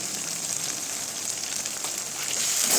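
Mutton curry sautés in a pan with turmeric, Kashmiri chili powder and salt, giving a soft, steady sizzle with light crackles that swells slightly at the end, with no voices.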